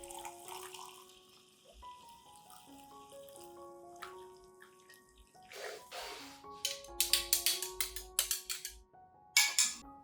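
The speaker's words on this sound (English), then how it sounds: "I will dilute this solution with about 1 liter of clean water" Clean water pours into a cinnamon solution, starting as a thin trickle and building into bursts of splashing and gurgling toward the end, fairly faint and close.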